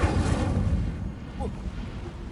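A burst of flame from the Incendio fire spell in the Hogwarts Legacy video game roars up loudly and then rumbles on steadily for a couple of seconds.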